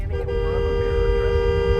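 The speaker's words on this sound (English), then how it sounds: "use the long honk" A steady car horn blares in one long, unbroken honk, loud and close, holding the same tone for nearly two seconds.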